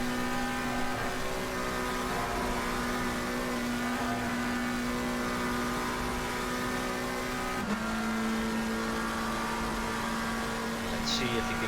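A McLaren GT3 race car in a racing game at Spa, climbing Eau Rouge from cockpit view: a loud, continuous engine drone holds one pitch, then drops sharply with a gear change near the end.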